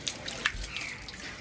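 Water poured as an offering at Shwedagon Pagoda in Myanmar falls in a few faint, close drips and a soft trickle over quiet background ambience.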